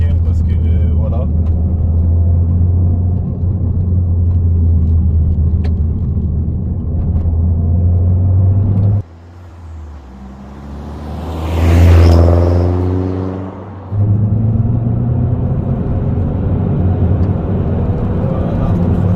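Peugeot 208 GTi fitted with a Pipercross air filter accelerating hard through the gears with turbo boost, a loud steady engine drone, a brief dip during a gear change, then rising revs and a whoosh before the drone resumes.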